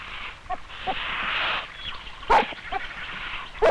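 Vocalizing by a white dingo that has come upon a Gould's goanna in the Australian bush: a few short, high whimpers and yips, moderately close, over a steady hiss of outdoor background.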